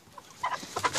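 Chickens cluck in short, nasal bursts near a five-month-old rooster on a farm, several brief calls close by and moderately loud, with no speech.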